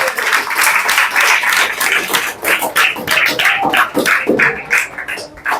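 Steady applause from a group, dense clapping that stays loud and continuous throughout with a slight dip near the end.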